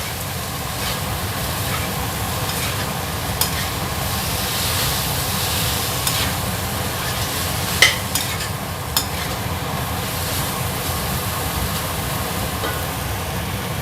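Asparagus and shrimp stir-fried in a pan, with a steady loud sizzle and constant scraping of the spatula, plus a few sharp clinks of metal against the pan.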